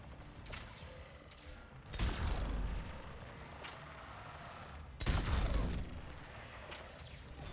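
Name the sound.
gunfire from a gun in the video game Mass Effect 3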